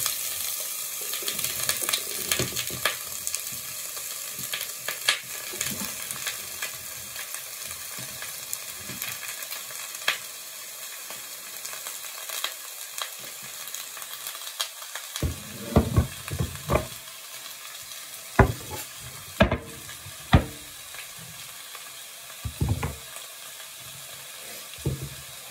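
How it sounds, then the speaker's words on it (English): Parsnips sizzle as they fry in a pan, a low, steady crackle broken by scattered clinks and scrapes of stirring, growing sharper and more frequent toward the end. "So we knew it was going to really sizzle."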